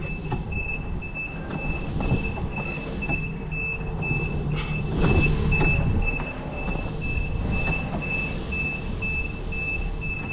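A Fenwick forklift sounds steady, evenly spaced reversing beeps over the hum of its motor in a warehouse, a brief louder clatter in the middle, no one speaking.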